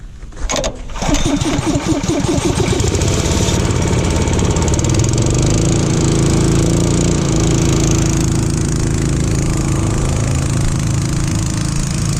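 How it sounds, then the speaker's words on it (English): Small engine-driven air compressor in a shop where a steel cutting edge is being flipped, starting up with a pull and sputter, then settling into a loud, steady, close running drone. "let me start the air compressor up"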